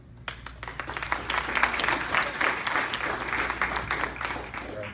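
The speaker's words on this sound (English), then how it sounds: "Let's give these students another round of applause." Audience applause for software developer graduates at a graduation ceremony, steady dense clapping from a crowd filling the room for several seconds.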